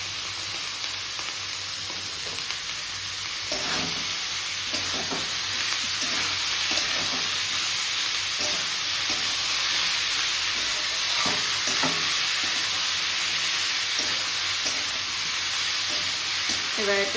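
Potato and bottle gourd fry in a pan without spices, giving a steady, close sizzle with bursts of crackle that continue without pause.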